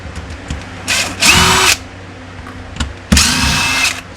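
A power driver backs T10 Torx screws out of the handle of a Stihl pressure washer wand, two short whirring bursts separated by a pause, loud and close with no voices.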